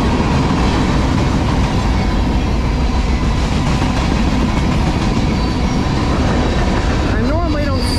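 A long CSX freight manifest train rolls past close by, a loud, steady roar of wheels and railcars with rhythmic clickety-clack throughout and a brief metallic wheel squeal near the end.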